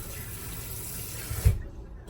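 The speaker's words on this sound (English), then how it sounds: "let me give it a shot of some warm water, not hot water, just warm water" Warm water streams steadily onto a child's long curly hair, a continuous soft hiss that cuts off abruptly near the end with a small splash.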